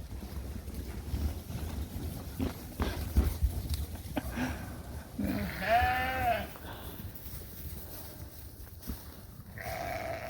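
Sheep at autumn feeding time on a farm, with one clear drawn-out bleat in the middle and a fainter call near the end over wind and low rumbling background noise, plus scattered knocks and bumps.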